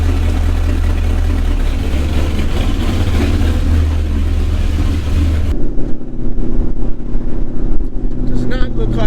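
A 1964 Chevrolet Chevelle engine hums loudly and steadily from inside the car, then the sound shifts to a rougher, bumpier rumble as the drive goes on; brief speech comes through in places.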